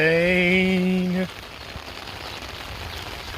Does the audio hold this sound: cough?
no